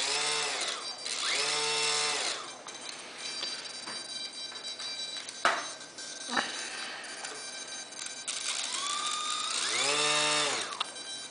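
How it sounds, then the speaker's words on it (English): A micro Invent brushless motor on an RC model Sopwith Batboat whines near and loud, rising in pitch as the throttle opens, easing back between bursts, and surging again, with a couple of sharp clicks partway through. "Motor is a micro invent brushless motor,"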